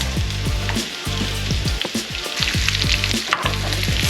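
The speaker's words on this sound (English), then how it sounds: "So the onions are nice and translucent. I'm gonna go ahead and add the mushrooms." Mushrooms and onions sizzle steadily in a pan, a loud close crackling hiss broken by rhythmic scraping strokes of stirring.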